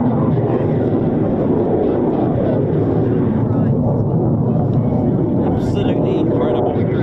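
F-15 and F-35 fighter jets depart RAF Lakenheath in a loud, continuous, rumbling engine roar that stays dense and steady, with a voice speaking over it.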